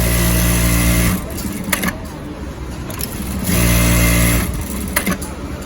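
A Jack A4B industrial sewing machine runs in steady bursts, its low motor hum rising and falling in a few stitching runs with brief pauses between them, close and moderately loud.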